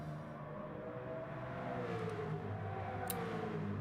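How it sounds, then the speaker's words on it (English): A Mazda race car with a rotary engine in a racing video game, a faint, distant high-pitched engine whine holding steady with slight pitch bends, a couple of short bright clicks near the end, no voices. "The sound of that Mazda just makes me smile. That rotary engine just screams."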